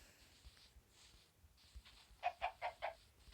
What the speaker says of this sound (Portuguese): Vou matar essa galinha aqui pra conseguir carne já.